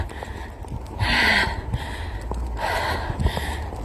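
Heavy panting from a person out of breath after walking through a snowstorm in Uddevalla, Sweden: two loud, close, breathy gasps about a second and a half apart over a low wind-like rumble, with no talking.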